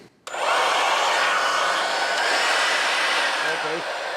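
A SEYVUM 20V cordless leaf blower kicks on after a brief silence, then gives a loud, steady rush of blown air that holds without pause to the end.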